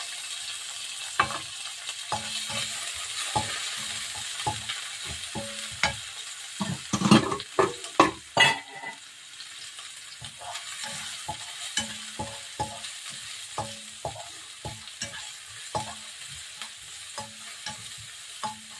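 Onions fry in a pan for a sardine and sotanghon noodle dish, a steady sizzle broken by frequent rhythmic spatula scrapes and clacks against the pan, close up and with no voices.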